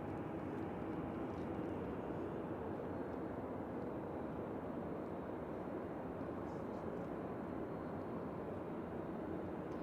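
A jet airliner rolls onto the runway, giving a steady, broad engine roar at moderate distance that holds evenly with no voices over it.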